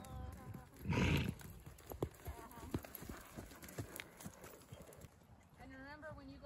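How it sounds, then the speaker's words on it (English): A small pony's hooves clip-clop in an uneven patter close by, with a short neigh, while people talk over it. "Look at that little pony."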